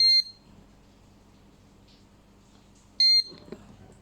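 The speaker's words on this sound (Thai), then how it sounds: "กดปุ่มสีเหลืองแช่ไว้นะครับ มาดูให้ดังสองปี๊บเลยนะครับ" Two short, loud electronic beeps from the control board of a coin-operated fuel dispenser, spaced about three seconds apart over a quiet low hum, with no talking.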